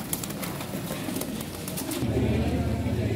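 Pigeons coo softly in low, rolling tones, alongside scattered clicks and fluttering, which turn into a steadier cooing near the end.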